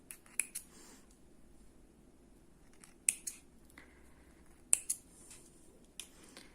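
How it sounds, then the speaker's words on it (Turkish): Small scissors snip embroidery thread for needle lace, giving a few quiet, crisp clicks spaced apart against a faint room background. "Araları da yukarı doğru çekerek kesiyorum arkadaşlar"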